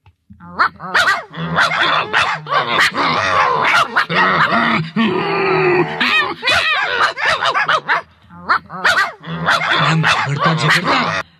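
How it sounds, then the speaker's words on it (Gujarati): Several dogs bark back and forth in rapid, overlapping bursts, loud and close, with growls and yips mixed in and only brief pauses. "એકબીજાને ભૂરકીને સામ સામે ભસવા લાગ્યા ભસવા લાગ્યા"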